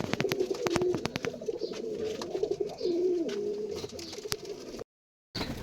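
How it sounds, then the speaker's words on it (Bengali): Kaldom and Giribaj pigeons, including a Kaldom hen and a Giribaj cock from Rajshahi, coo in repeated low rolling phrases close by, with clicks and rustling, then a brief dropout of sound. "এটা কালদম কালদম মাদি আর এটা নর গিরিবাজ নর রাজশাহীর"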